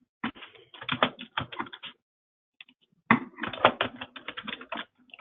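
Quick keystrokes on a computer keyboard come in two bursts of close, crisp clicking as card details are entered, with a brief pause between them.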